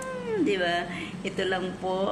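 A domestic cat meows up close, several drawn-out meows in a row, while a person talks softly over them in Filipino.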